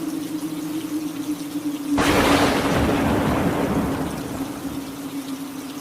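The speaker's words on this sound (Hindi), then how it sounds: "कड़कती बिजली के साथ साथ मूसलाधार बारिश भी शुरू हो गई।" Heavy downpour with thunder: a low steady tone before a sudden loud burst of dense rain noise and a deep rumble that carries on and slowly fades, with no voices.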